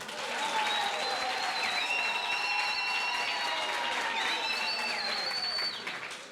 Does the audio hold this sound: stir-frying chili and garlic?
no